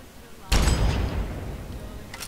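Gunfire in Fallout 3 combat against two deathclaws: a loud burst of shots at about half a second, ringing out and decaying over the following second, with a fainter crack near the end.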